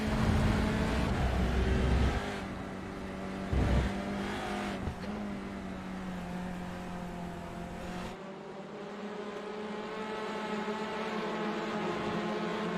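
Race cars in an SRL TCR touring car race at Rudskogen, loud engines droning and revving with shifting pitch as cars pass close by, a sharp drop in level near the end as one fades.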